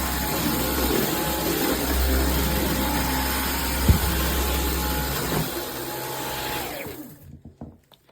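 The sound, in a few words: Dyson V15 Detect cordless vacuum cleaner running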